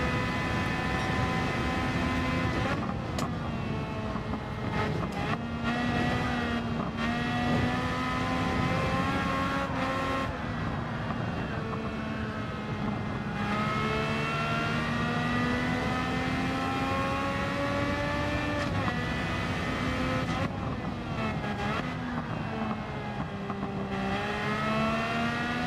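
A race car engine in Gran Turismo 7 revs continuously and loudly, climbing in pitch through each gear then dropping sharply at upshifts, with brief lifts and rises repeating across a lap.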